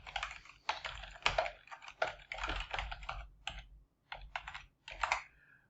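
Keystrokes on a computer keyboard as a notebook file name is typed, a quick irregular clatter in bursts with short pauses, close and moderately quiet with no talking.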